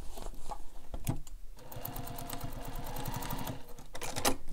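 A sewing machine stitching the facings of a carryall bag runs in fast, continuous rattling bursts, close and clear, with a few brief pauses and clicks between runs.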